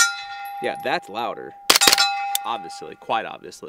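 A single gunshot rings off a steel target with a bright metallic clang and lingering ding, set amid people talking before and after the impact.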